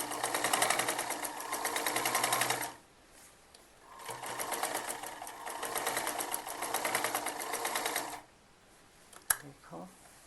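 A sewing machine stitches a second line along a kurti seam, running in two long steady bursts of close whirring separated by a quiet gap, followed by a sharp click and handling sounds.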